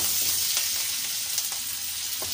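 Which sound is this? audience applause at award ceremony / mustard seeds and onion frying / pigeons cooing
mustard seeds and onion frying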